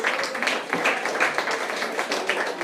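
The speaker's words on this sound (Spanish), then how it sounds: "les podemos dar un fuerte aplauso a nuestros ponentes" Audience at a talk on feminism and animal rights applauding the speakers, steady dense clapping from a crowd indoors, fairly close.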